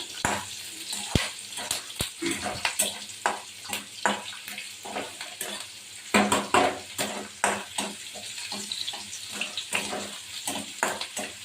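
Onions fry in a pan with a steady sizzle, broken by repeated scraping and clattering as a utensil stirs them. The sound is close and moderately loud.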